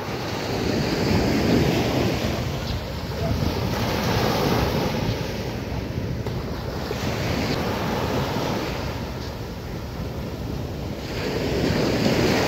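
Sea waves wash ashore on Kovalam beach in South India, with boats out on the water; a steady, loud roll of surf mixed with wind buffeting the microphone runs through the whole stretch, with no talk.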